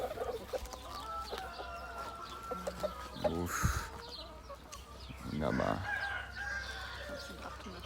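Chickens cluck and a rooster crows on a farm with bushes and trees, the calls scattered and fairly close. Brief spoken interjections and handling noises sit among the birds.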